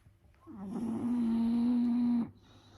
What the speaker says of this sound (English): ignore the snoring dog.